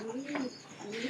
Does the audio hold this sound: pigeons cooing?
yes